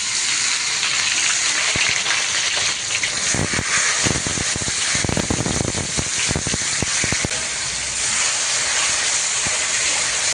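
Onion and tomato sizzle loudly in hot oil with cumin and mustard seeds, a steady close hissing roar with scattered crackles and spatters throughout.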